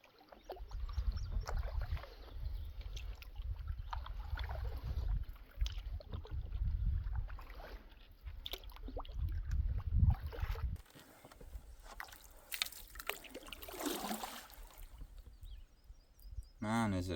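Solo canoe on a quiet Algonquin backcountry lake: close paddle strokes, drips and water swirling against the hull, with light wind buffeting the microphone and a brief stretch of quieter lapping water.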